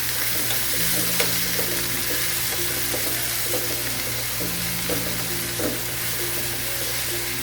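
Chicken fried rice with soy sauce being stir-fried in a pan, a steady loud sizzle with scraping stirring strokes throughout, no talking.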